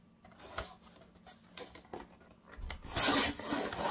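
Edges of a birthday craft piece get trimmed neatly by hand, short rasping cuts and rubbing strokes in quick irregular bursts, ending in a louder, longer scraping pass close by.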